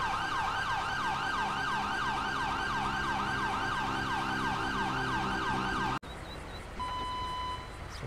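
A wailing ambulance siren in GTA 5, near a beach, cycles rapidly up and down, loud and steady, then cuts off abruptly, leaving a quieter electronic hum and tones.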